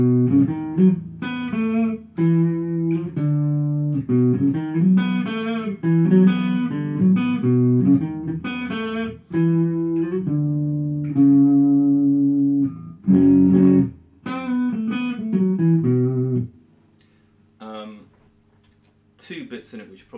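An unaccompanied clean electric guitar plays a riff slowly and without effects. It picks out a melodic phrase with held notes and short pauses, and ends in a few quiet plucks.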